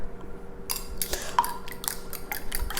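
Eggs and a splash of cream being whisked in a bowl for breakfast: a run of light, uneven clinks and taps of utensil against the dish, close and fairly quiet, without speech.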